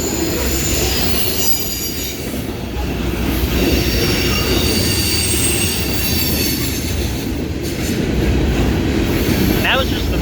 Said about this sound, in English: That was just the middle of the train.